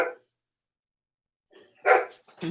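A dog barks in a home office, with a brief sound at the start, then near silence, then a loud close burst of barking followed by a further bark.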